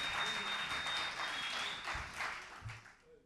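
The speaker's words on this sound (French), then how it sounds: "Sous vos applaudissements." Steady applause from a television studio audience at a presenter contest final, many hands clapping in a continuous wash that fades a little near the end.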